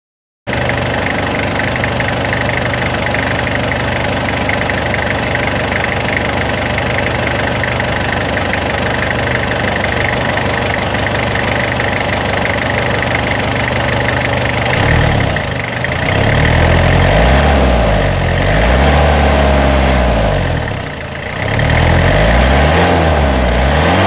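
A Toyota Hilux SR5 2.8 diesel with about 305,000 km idles close by in a loud, steady clattering drone, and its tone dips and swells several times in the second half.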